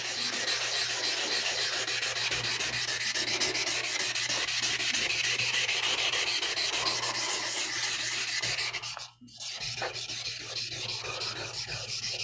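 Sharpening stones being flattened and cleaned on 320 grit sandpaper, giving a steady, close scraping rub that runs nearly nonstop for about nine seconds, breaks briefly, then resumes.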